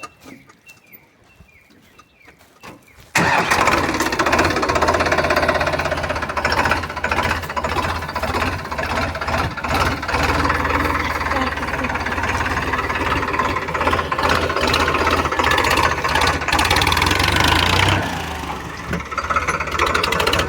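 A tractor engine runs close by with a loud, steady chugging drone and knocking rumble that starts abruptly after a quiet opening, holds for about fifteen seconds, then eases off slightly near the end.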